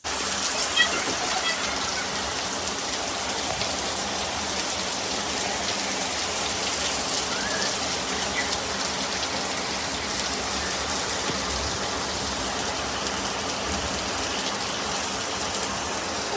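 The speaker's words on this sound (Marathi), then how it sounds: "पाऊस पडतो आणखी पाऊस पडतो दिवसभर गरम होत होतं आणि आता एवढा पाऊस आला आहे" Heavy rain pours down steadily, a dense continuous hiss of drops hitting surfaces, loud and unbroken throughout.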